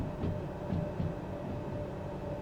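A DH4 locomotive in Derail Valley, played in the rain, rolls along under train braking, giving a steady dense rumble and hiss with faint rhythmic thumps of wheels over track joints.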